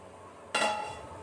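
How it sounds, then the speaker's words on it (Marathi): A lid set onto a pan of steaming dhokla batter on a stove, one sharp metallic clank followed by a ringing decay, close and alone over quiet room noise. "याला छान झाकणनी कवर करून घेऊया"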